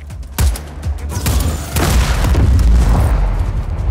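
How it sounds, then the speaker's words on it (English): Exploding piñatas blow up in the video game Just Cause 4: a sharp boom early on, then a loud, rolling barrage of overlapping blasts and rumbling bursts that sustains to the end, with no talking. "The goal is to find and destroy the exploding piñatas."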